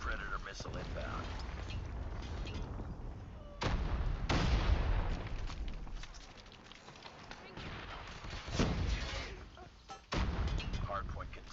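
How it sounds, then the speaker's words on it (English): Booming blasts and gunfire in Call of Duty Mobile, with heavy explosive impacts from a Predator missile strike, several loud bangs standing out over continuous battle noise and talking. "Friendly Predator missile inbound."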